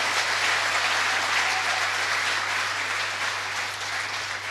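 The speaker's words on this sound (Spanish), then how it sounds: "Un fuerte aplauso." A church congregation applauds loudly and continuously during a service, a dense wash of clapping with a low steady hum underneath, easing slightly toward the end.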